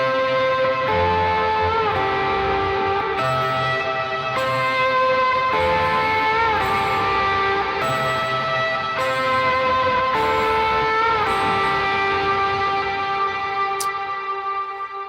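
An electric guitar with effects plays an instrumental part from the worship song Living Water, sustained bright notes sliding between chord shapes at a steady moderate tempo, loud and alone.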